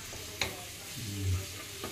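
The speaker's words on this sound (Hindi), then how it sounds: "और फिर लहसुन और प्याज डाल दी इसमें। इनको हल्का हल्का फ्राई करना है।" Garlic and onion fry lightly in a pan for white sauce pasta, a quiet sizzle broken by a sharp clink near the start and a soft scrape of stirring toward the end.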